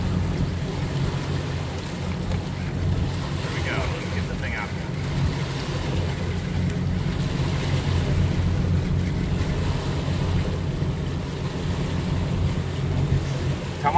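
Boat under way at about 6 knots on a flat sea, steady low engine drone with wind and water wash around it, no talking.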